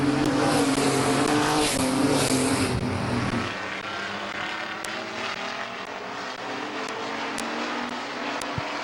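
Race cars roar around the oval at Midvale Speedway on lap ten, a loud dense engine drone that swells as the pack passes close, then thins to a steadier, more distant whine.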